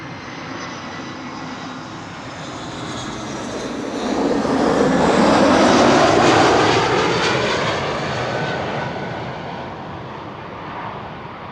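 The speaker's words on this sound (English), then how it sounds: "A little bit of reverser being deployed there." An Embraer 195 E2 jet lands at Amsterdam Schiphol Airport and deploys its thrust reverser. A broad, loud roar swells in the middle, then slowly fades as the jet rolls out, with no talk over it.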